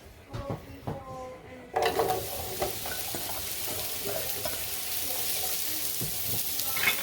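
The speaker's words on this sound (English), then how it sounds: "You should hear it sizzle as soon as it hits the pot." Mushrooms hit hot oil in a pan and burst into a loud, steady sizzle that continues unbroken after a few quiet clinks and taps of utensils.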